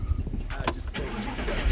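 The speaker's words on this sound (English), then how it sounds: "Let me turn the car on now" An Audi R8 fitted with a carbon fixed spoiler starts up, its starter catching into a loud burst of engine sound that settles into a steady running rumble.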